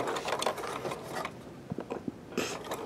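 Sewing machine fitted with a roller stitching cord for trims, a close, busy mechanical chatter of needle and feed with uneven clicks and short bursts throughout.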